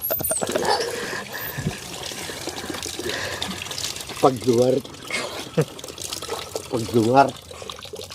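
Water is poured and splashed to rinse someone's feet during a bath, in short bursts under close, ongoing conversation.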